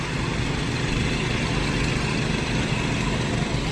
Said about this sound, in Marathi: 2 ट्रॅक्टर चालायला लागले